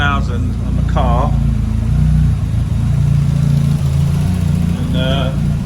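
A Ford Fiesta RS Turbo fitted with a Focus RS engine idles with a low, steady rumble close by, while a person talks over it.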